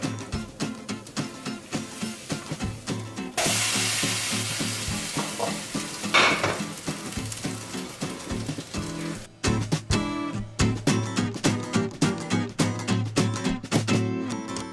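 A crepe fries in a pan with a close, continuous sizzle. Rhythmic scraping or stirring strokes repeat throughout, and the hiss swells briefly in the middle.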